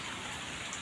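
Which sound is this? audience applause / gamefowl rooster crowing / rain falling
rain falling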